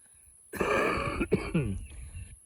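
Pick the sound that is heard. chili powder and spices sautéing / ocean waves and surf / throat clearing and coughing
throat clearing and coughing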